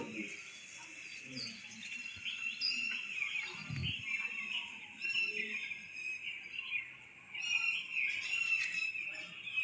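Small birds chirp and tweet outdoors in a cool breeze, with scattered high calls over a steady insect-like hiss and faint background noise, no talking.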